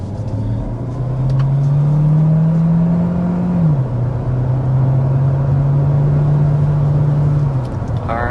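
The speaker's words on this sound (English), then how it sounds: "Alright, so that was taking it up to 60 miles per hour." A 2025 Hyundai hybrid SUV, 232 horsepower, accelerates hard to 60 mph, its engine note rising in a steady drone, dipping at a gear change, then climbing again before easing off, loud and close from inside the cabin.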